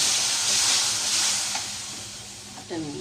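Water added to onions and prawns frying in a pan sets off a strong hiss and sizzle that gradually eases off, followed by a short scrape of stirring near the end.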